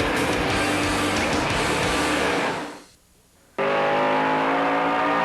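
Stock race cars in a 1999 USAR Hooters Pro Cup Series race at Greenville-Pickens Speedway, heard as a loud continuous engine roar that fades out, drops to near silence for a moment, then cuts back in at full volume.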